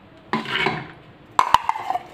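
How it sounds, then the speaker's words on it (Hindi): Soaked kidney beans tipped into a metal pressure cooker, giving a brief rattling pour followed by a few sharp metallic clinks, close and clear with no talk. "प्रेशर कुकर में मैं ये राजमा को डाल दूँगी"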